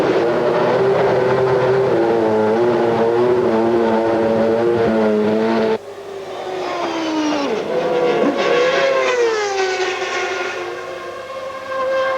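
A 1990s McLaren Formula One car in a qualifying session, engine screaming at high revs, loud and close, with gear changes shifting the pitch up and down as it races.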